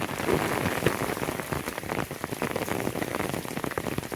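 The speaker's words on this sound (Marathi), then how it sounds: "पाऊस आला ते बघा हे असे पाण्याचे बघा कसे मोठे मोठे पडतात" Heavy monsoon rain with large drops pours down steadily on a Konkan village farm, pattering densely on a hard surface with a constant, close splashing roar.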